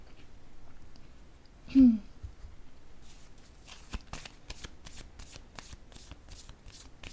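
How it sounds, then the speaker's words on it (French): Tarot cards are handled and laid down during a reading: a short ruffle of card shuffling, then a run of soft, quick rhythmic flicks and taps, close and fairly quiet, with a brief vocal sound early on. "Je vais déposer une autre carte."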